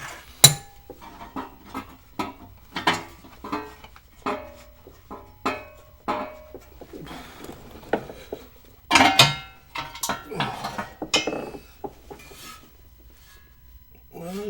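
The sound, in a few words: removing and handling a metal oil deflector shield held by nuts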